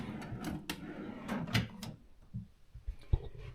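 Desk drawers in a hotel room slide open and shut several times, each with a close wooden clatter and knock, followed by quieter thuds.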